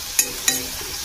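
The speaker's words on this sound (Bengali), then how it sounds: "তারপরে এরকমভাবে নাড়াচাড়া করে নিই।" Food being stirred in a frying pan during home cooking, two quick scraping strokes over a steady, close sizzle.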